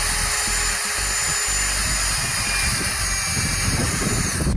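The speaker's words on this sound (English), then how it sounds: "We're going to start the pilot holes with a very small drill bit." A small bit in a power drill bores pilot holes to mount a plaque, the motor whining at a steady high pitch throughout, close and continuous.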